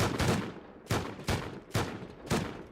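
Gunfire in the survival video game Rust: five sharp bursts spaced about half a second apart, each decaying quickly, loud and close with no talk over them.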